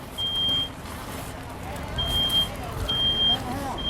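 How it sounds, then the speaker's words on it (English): A smoke alarm sounds during a live burn demonstration, its piercing high beep coming in three separate bursts over steady background noise, with people talking nearby. "All right, we have smoke alarm activation."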